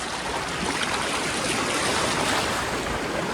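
Ocean surf washing up on a beach, a steady loud rushing roar of breaking water and foam that fills the whole moment without pause, close to the listener, with some wind buffeting and no voices.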